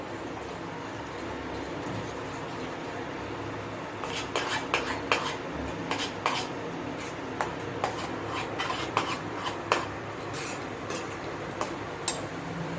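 A spoon stirs coriander-cumin powder, chili and garlic chutney in a pan for pav bhaji, with steady faint background hiss for the first seconds and then a run of sharp metallic scrapes and clinks against the pan.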